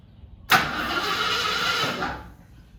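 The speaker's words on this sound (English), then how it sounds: "When it starts to start, you let go, okay? Because I can't have the starter running." A 1974 AMC Javelin engine catches abruptly after cranking, roaring loud and close for about a second and a half before the sound cuts away.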